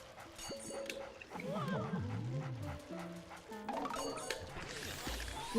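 Game dog from Luigi's Mansion barking and whimpering in short yelps and whines, mixed with music and game effects.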